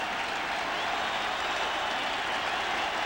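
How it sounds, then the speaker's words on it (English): Roar of a large crowd of over 40,000 at a 1995 Cardinals vs Mets baseball game, cheering a strikeout; steady, dense broadband cheering and applause with no distinct breaks. "Crowd here cheering for a strikeout."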